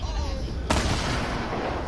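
Gunfire in a video game: a sharp shot cracks out partway through, over a steady, dense backdrop of game noise and low rumble, with a voice faintly present.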